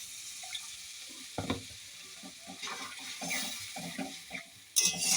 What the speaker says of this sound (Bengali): এবার আমার এই মশলাটা নাড়াচাড়া হয়ে গেছে কাঁকড়ার সঙ্গে। এইবার আমি ওতে জল দিয়ে দেবো।